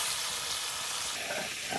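Large snakehead fish frying in hot oil at an outdoor picnic cookout, giving a steady, close, dense sizzle that fills the clip evenly, with a few soft crackles and no voices.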